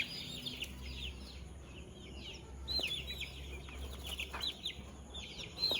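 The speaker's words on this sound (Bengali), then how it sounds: "মুরগিগুলো আপনার ভালো ভয় পাইতেছে" Frightened chickens on a layer poultry farm cluck and squawk in repeated agitated bursts, a restless flock close by over a low steady hum, with no speech.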